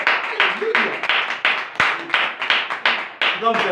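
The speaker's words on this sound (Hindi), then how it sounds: "एक बार जोरदार तालियां।" A congregation at a Hindi-language Christian sermon claps loudly and rhythmically in unison, a regular pulse of sharp beats with voices calling out between claps.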